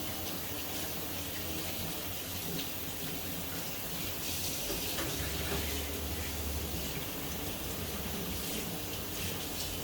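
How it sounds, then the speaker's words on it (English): Tap water runs steadily into a kitchen sink while hands are washed after handling raw meat, a loud, continuous close-up rush with no speech. "I'm going to wash my hands"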